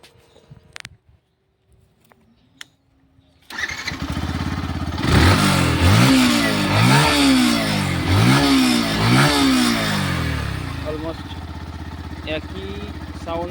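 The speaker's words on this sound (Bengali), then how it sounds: "এবার দেখে নেব FZ বাইকটির কেমন এক্সজস্টের সাউন্ড।" After a quiet start, a Yamaha FZ-V3 motorcycle exhaust starts up and revs repeatedly in rising and falling bursts, heard close and loud, then drops back toward a rumbling idle.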